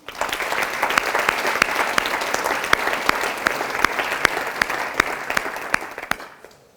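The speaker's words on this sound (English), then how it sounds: "So let's take a minute to give those drivers thanks with a round of applause." An audience at a mayor's State of the City address applauds to thank the city's snowplow drivers, sustained clapping from a roomful of people with a few sharp individual claps standing out, fading away at the end.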